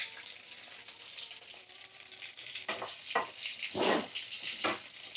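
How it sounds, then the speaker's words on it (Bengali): Large chunks of potato frying in hot oil that already holds turmeric and salt, giving a steady close sizzle with bursts of louder crackling and stirring near the end. "চলো আলুগুলো ভাজা করে নিই"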